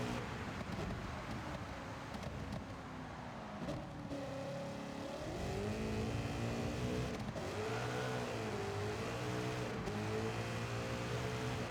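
A race car engine in Gran Turismo 7 during a Le Mans race, revving steadily with rising and falling pitch as the car accelerates through turns. It is loud and continuous, with no talk.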